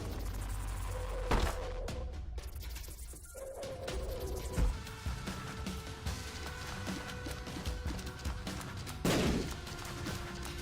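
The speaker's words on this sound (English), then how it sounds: "The explosion wasn't too great, I assume." Explosion in a video game, heard as a sharp burst followed by rumbling debris and a second broadband blast later, with crackling noise continuing throughout.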